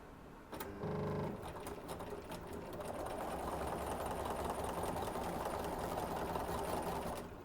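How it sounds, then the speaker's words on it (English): A sewing machine runs steadily, stitching a quarter-inch seam through two layers of quilt-block fabric placed right sides together, a close, continuous mechanical whir with a brief louder burst near the start and no talking. "we're going to stitch a 1/4 inch seam"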